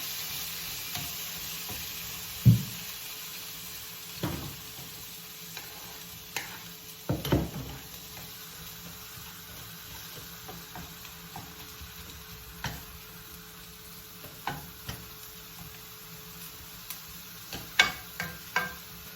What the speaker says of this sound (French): je vais faire revenir l'équivalent de 2 cuillères à soupe d'huile d'olive. Je vais y ajouter mes tomates et oignons